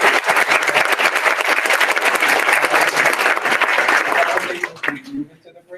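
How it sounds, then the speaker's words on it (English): Sustained applause from a conference audience clapping for presenters, a dense steady patter that fades out near the end into quiet room sound. "One more round of applause for everybody."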